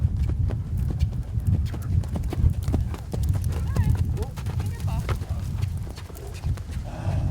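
Horse hooves clip-clop steadily at a ranch during equestrian vaulting, with occasional whinnies and people talking over the hoofbeats throughout.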